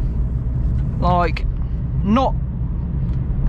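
Vauxhall Corsa car driving at night, a steady low engine and road rumble heard from inside the cabin, with someone talking briefly over it.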